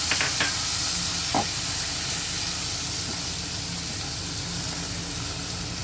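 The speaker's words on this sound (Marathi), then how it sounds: "जी रात्रभर भिजत ठेवलेली होती चण्याची डाळ ती टाकून घेणार आहोत आणि फोडणीबरोबर एकजीव करून घेऊया तिला" Overnight-soaked chana dal tipped into a hot spiced oil tempering for a cabbage dish, giving a steady sizzling hiss with a few brief clatters near the start as it is stirred in the pan.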